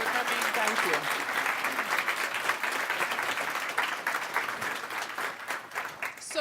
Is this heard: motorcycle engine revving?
no